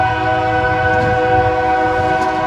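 A Norfolk Southern train led by a foreign-power locomotive passing near Princeton, Indiana, sounding a loud, sustained multi-tone horn over a steady engine rumble, close by and continuous.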